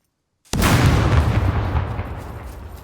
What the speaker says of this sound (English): what I'm going to do is plant this grenade on here. Then I'm going to pull the pin